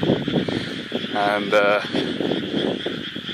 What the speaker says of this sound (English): You can hear the you can hear the frogs every single night,